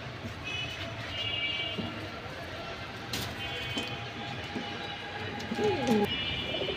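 A pigeon coos softly a couple of times near the end over a steady background hum, with a faint bird chirp earlier and no speech.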